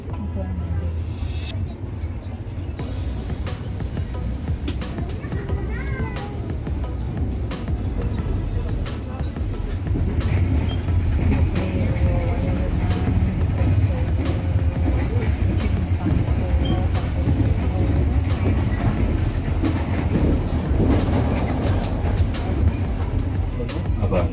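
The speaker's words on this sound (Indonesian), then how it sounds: "kita perlahan meninggalkan stasiun Kedung Gede. Kita menuju ke stasiun berikutnya. Sudah mulai jalan perlahan keretanya" A local commuter train pulls slowly out of Kedung Gede station in Indonesia, a steady rumble and clatter of the car heard from inside that grows slightly louder as it gathers speed, with someone speaking over it.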